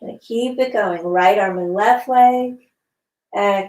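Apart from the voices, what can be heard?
No everyday noises stand out.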